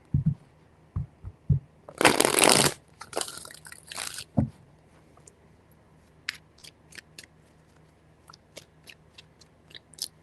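Tarot cards shuffled by hand in a series of bursts of papery riffling and slapping, loudest in one long burst near the start, followed by quieter scattered card taps and flicks, with no talk.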